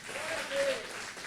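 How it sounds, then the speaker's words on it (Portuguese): A church congregation applauds during a worship service, a brief, faint patter of clapping with a voice briefly sounding over it. "Aplauda ao Senhor, igreja."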